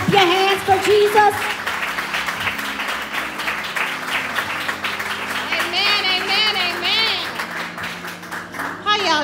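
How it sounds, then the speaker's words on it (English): A church congregation claps along at a Zion Church service, steady overlapping hand claps filling the room beneath constant voices and music, loud and close throughout. "Somebody shout amen and clap your hands for Jesus"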